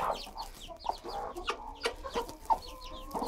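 Rhode Island Red hens in a broody pen with their chicks cluck steadily around compost full of worms, giving soft repeated clucks and a few sharper calls, close and fairly busy.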